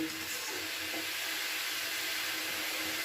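Mustard greens frying in a pan with salt and turmeric give off a steady, close sizzling hiss that runs unbroken throughout.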